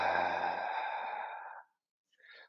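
A deep, long exhale of air pushed out of the lungs during a guided breathing exercise, loud and close, fading out after about a second and a half, followed by a brief softer breath.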